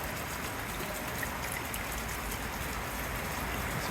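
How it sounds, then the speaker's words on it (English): Rain falls steadily outside a house under construction in the Philippines, a constant close hiss of drops with a trickling, watery texture and no speech. "looks like we got some rain"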